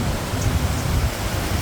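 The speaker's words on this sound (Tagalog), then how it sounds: "Lakas pa ng hangin." Strong storm wind on a farm roars steadily and close, a dense low rumble with broadband rushing noise, like gusts buffeting a microphone.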